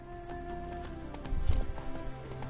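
In The Witcher 3, a horse's hooves clop in a quick galloping rhythm, fairly quiet and close, with a heavier thud partway through.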